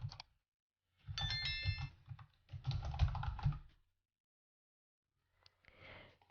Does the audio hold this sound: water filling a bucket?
no